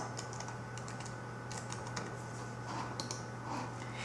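Quiet, fairly close typing on a computer keyboard while entering a title in Prezi, a steady run of light key clicks over a constant electrical hum.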